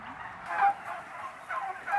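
Turkeys on a fattening farm holding tens of thousands of male and female birds, a steady mass of overlapping gobbles and calls with louder swells rising from the flock.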